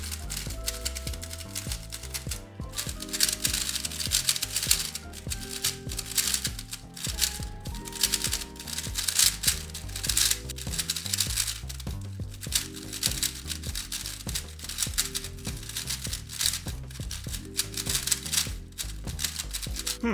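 A GAN 12 Maglev speed cube is turned rapidly and continuously, giving dense clicking and clacking from its soft plastic and magnetic internals, close to the microphone with no talk.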